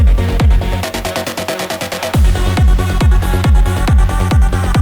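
A bright synth lead plays a fast rhythmic pattern over punchy low hits, with a roomy reverb tail lingering between notes, loud and upfront.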